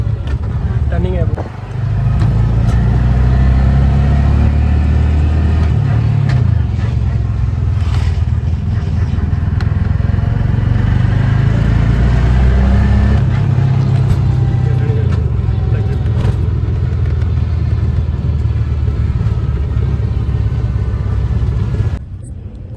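An auto rickshaw driving in fourth gear through a turn, its engine giving a loud, steady, close low rumble that holds almost unbroken throughout, with a brief dip near the start and again at the end.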